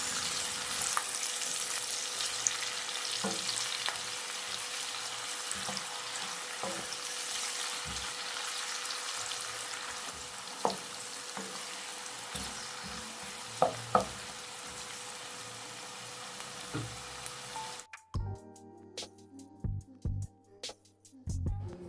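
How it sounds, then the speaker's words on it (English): Sliced onions stir-frying with salt in a pan, a steady sizzle with occasional scraping stirs, ending in a few louder clatters of the spoon near the close. "Then stir fry for about 2 minutes."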